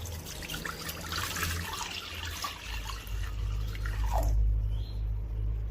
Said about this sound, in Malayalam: രണ്ടര കപ്പ് വെള്ളം ഒഴിച്ചു കൊടുക്കുക